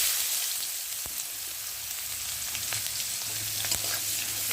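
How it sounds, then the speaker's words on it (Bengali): Sliced onions frying in hot oil with bay leaf and whole cumin seeds for an egg curry, giving a steady close sizzle broken by a few sharp pops and stirring clicks. "পেঁয়াজটা ভাজা ভাজা হয়ে গেছে"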